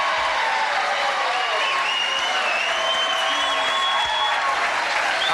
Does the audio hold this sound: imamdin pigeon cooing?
no